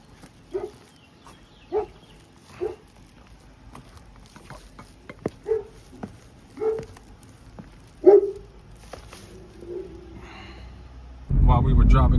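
A big dog barks repeatedly from a distance at a customer's house, a steady series of short, evenly spaced woofs that fade slightly, before a loud rush of noise at the end.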